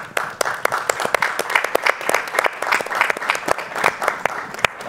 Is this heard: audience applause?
yes